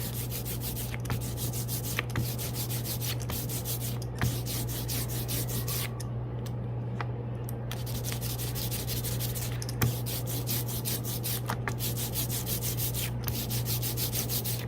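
An ink brayer rolls back and forth through sticky printing ink for gyotaku relief printing, making close, rhythmic tacky rubbing strokes about once a second, with no voices.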